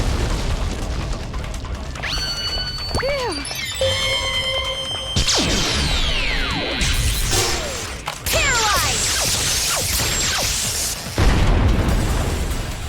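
Gunfire and booming explosions in the video game Danganronpa Another Episode: Ultra Despair Girls, dense loud bursts and crashes layered over continuous game effects and music, with no pause in the noise.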